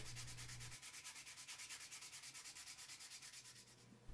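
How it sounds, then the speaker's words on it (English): Steady, rhythmic rasp of coarse 60-grit sandpaper scrubbed back and forth over a carved wooden fishing lure, quick regular strokes, close and continuous, with a low hum underneath. "you're just gonna see me finishing everything off with a piece of sandpaper, which by the way was grit 60"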